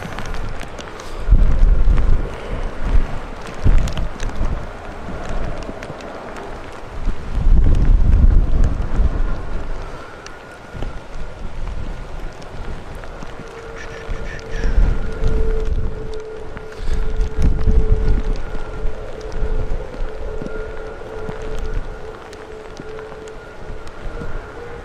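Strong wind gusts buffet a microphone outdoors at Manchester Airport in wet weather, surging in heavy rumbling waves, while a steady distant jet engine whine holds underneath.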